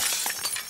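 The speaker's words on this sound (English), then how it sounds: "break the glass" Glass breaks in the video game The Last of Us Part II, a short bright shatter with a few scattered tinkling fragments, close and fairly loud.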